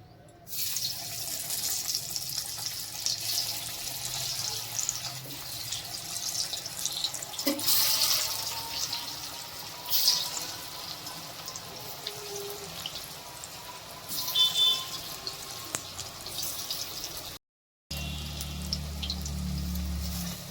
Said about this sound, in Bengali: কড়াইতে তেল বসিয়েছি, তেলটা গরম হয়ে গেছে, এবার ধোকাগুলো ভেজে নেব।